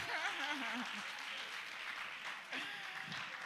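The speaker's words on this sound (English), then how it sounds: "let's give David a round of applause for that" An audience at an Elevate Africa convening applauds warmly, and a voice talks over the clapping at the start and again near the end.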